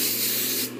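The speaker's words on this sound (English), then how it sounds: "spray every section of head, and you come to the front and spray every section" A quick hiss of hairspray misted onto a section of hair, one close, steady burst of aerosol lasting under a second before trailing off.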